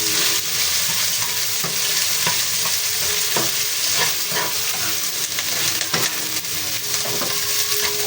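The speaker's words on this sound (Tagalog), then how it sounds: "Gisa-gisa lang po tayo. Ayan, ating sibuyas." Plenty of onions sautéing in a pan, giving a loud, continuous close sizzle broken by repeated stirring scrapes and clacks of a utensil, with no talking.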